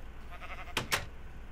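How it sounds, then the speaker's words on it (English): A pair of short, bright sheep bleats from the Minecraft video game, two quick calls back to back over a faint background, with no talking. "Now you only have four sheep."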